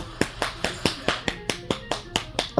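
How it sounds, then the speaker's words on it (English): Sharp, evenly spaced slaps of a hand clapping against a leg, about a dozen crisp close hits in a steady quick rhythm with no talk. "I'm clapping my leg right now."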